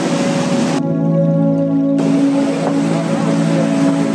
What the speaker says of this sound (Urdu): یہاں پانی مسلسل ایک اونچائی سے نیچے گر رہا ہے اور اس کے شور کی گونج دور دور تک سنائی دیتی ہے